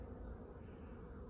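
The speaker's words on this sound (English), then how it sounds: "flying bees" Honey bees fly around a hive on a warm spring day, making a steady, dense buzzing hum that holds evenly throughout with no pauses.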